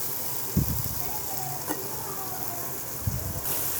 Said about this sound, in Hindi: टमाटर वालों मसालों के साथ बैंगन को अच्छी तरह से आपने भूनना है।